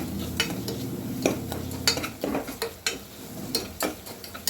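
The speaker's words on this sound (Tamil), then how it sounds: "ஆட் பண்ணிவிட்டு நல்லா ஆயிலில் ஃப்ரை பண்ணிகிட்டே இருந்தால்" Sambar powder and turmeric frying in oil for a radish sambar, with soft sizzling under repeated scraping and clinking stir strokes of a utensil against the pan, fairly close and steady.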